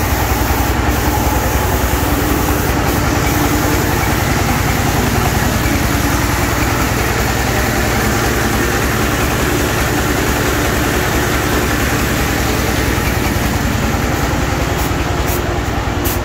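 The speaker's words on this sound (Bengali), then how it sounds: "কাজের চাপের কারণে জেনারেটর দিয়ে কাজ চলতেছে।" A generator engine runs steadily at a busy furniture workshop, a loud, continuous low drone and rumble that holds unchanged throughout with no pauses or other distinct sounds.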